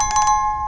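A short synthetic notification chime, a quick run of four bright bell-like pulses ringing over a sustained high tone, close and clear with no voices.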